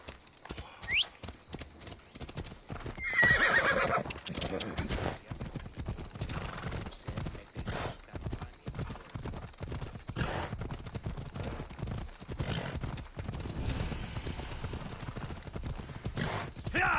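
Rapid hoofbeats clatter steadily as a horse gallops, with a brief neigh near the start, all in an ongoing soundscape from the video game Assassin's Creed Odyssey.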